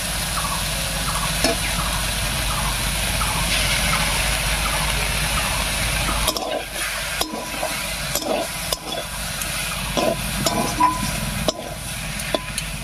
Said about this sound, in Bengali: শাকটা বেশ কিছুক্ষণ রান্না হয়ে একটু ভাজা ভাজা মতন হয়ে গেছে